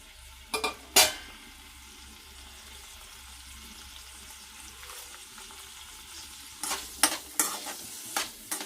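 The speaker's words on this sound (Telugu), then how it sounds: "ఇప్పుడు ఆయిల్ కాగింది కదా, ముందు ఇవి వేయించుకుందాం." Ingredients such as coconut fry in hot oil for a mutton curry, with a low steady sizzle and bursts of stirring and scraping near the start and the end. No one speaks.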